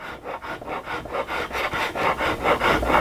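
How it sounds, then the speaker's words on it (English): Half-round wood rasp shaping a CZ 457 rifle stock, a steady run of close, coarse rasping strokes at an even back-and-forth rhythm. "you know exactly where you're rasping"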